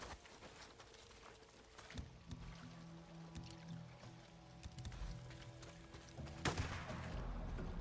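Gunfire in a first-person shooter video game during a challenge run, with sniper and hip shots: a few sharp, loud shots stand out over steady game ambience and engine-like rumble, with no talking.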